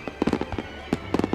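Fireworks bursting over a city at night, a scattered run of quick popping cracks in irregular clusters, moderately distant and crackling, with no talking.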